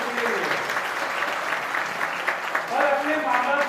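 Audience applause fills a hall at a community education seminar, a steady dense clapping that holds loud and continuous throughout, swelling slightly near the end.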